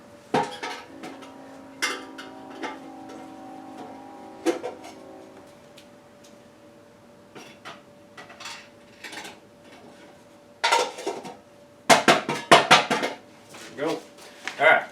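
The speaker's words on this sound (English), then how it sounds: "I'm going to throw them bolts in this cam dip" Loose 2007 GMC Yukon engine bolts clatter and clink as they are tossed into a metal cam dip cleaning tank during a motor teardown, several sharp metallic clanks in bursts, with someone talking in between.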